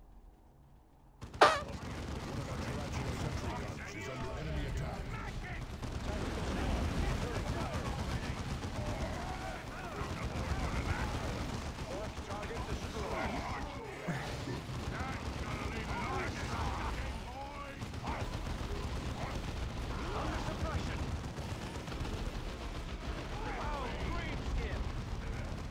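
Space Marine bolters fire in the Warhammer 40K game Dawn of War 2, a sharp opening shot followed by dense, continuous rattling battle gunfire at moderate level.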